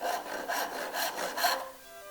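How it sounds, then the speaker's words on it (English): A hand saw cuts a wooden tenon on the end of a workbench in a 19th-century carpentry demonstration. About four rhythmic rasping strokes sound close and fairly quiet, with no talking. "I'm just going to hang it off the end of the bench and saw it that way"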